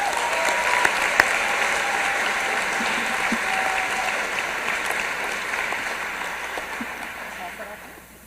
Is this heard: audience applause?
yes